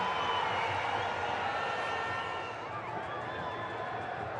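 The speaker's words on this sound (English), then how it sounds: "hear the crowd. They've had something to cheer about." A cricket crowd at an Australia vs Sri Lanka one-day international cheers in a steady, broad roar that fills the ground and eases slightly toward the end.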